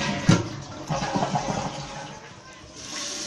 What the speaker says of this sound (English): Alright, flush it,